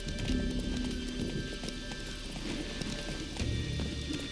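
Roach, a horse in The Witcher 3, gallops with rapid, rhythmic hoof clip-clops, close and steady, over a low ambient background, with a brief neigh-like sound.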